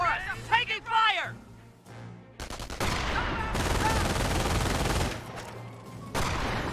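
Gunfire in the strategy game Company of Heroes, sustained rifle and machine-gun bursts erupting after a shouted voice, loud and dense through the middle of the clip and then easing off near the end.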